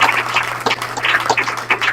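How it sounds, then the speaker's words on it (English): Applause from colleagues at an office meeting: close, uneven clapping with sharp individual claps over a steady low electrical hum. "You guys deserve a round of applause for that."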